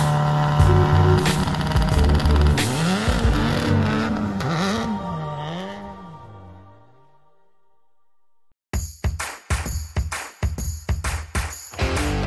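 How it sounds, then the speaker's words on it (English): A four-wheel drive Mitsubishi Mirage rally car at the Sno*Drift Rally loudly revs its engine, the pitch swinging up and down before fading into silence. It then returns with a run of sharp, rapid rev blips. "four-wheel drive Mitsubishi Mirage that Patrick Gruszka drove"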